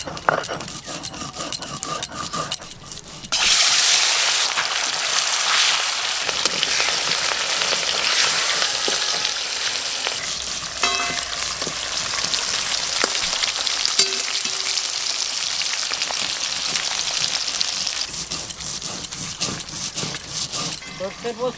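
Pieces of fish frying in a pan give a bright, constant sizzle that starts suddenly after a few seconds and continues with small clinks and shuffles as the pieces are turned. Someone speaks at times over the sizzle.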